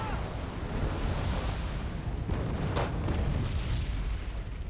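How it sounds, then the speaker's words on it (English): Artillery explosions in Wargame Red Dragon, a steady rumble of overlapping distant booms from heavy shelling and counter-battery fire, with a sharper crack partway through and a voice talking over the noise. "You can see the artillery on both sides is very strong"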